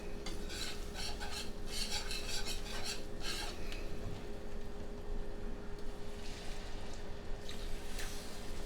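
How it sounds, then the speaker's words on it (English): A metal whisk works milk into a butter and flour roux in a pan, a steady scraping and clinking rhythm in bursts through the first few seconds, then softer stirring over a constant low hum. "I'm going to start adding the milk and whisking that in"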